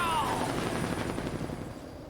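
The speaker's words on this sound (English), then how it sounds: "the helicopter's just flying out of control" A helicopter's rotor chop and whine in the GameCube video game The Incredibles, as it flies out of control, fill the scene, a rough, continuous roar that gradually fades a little.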